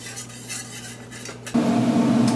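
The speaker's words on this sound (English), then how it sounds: "Stirring with my whisk." A whisk stirs buffalo wing sauce in a pot, first with soft scraping and clinks, then a louder, continuous rushing swirl for the last second. No one talks.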